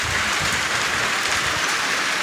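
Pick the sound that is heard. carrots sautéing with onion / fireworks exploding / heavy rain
heavy rain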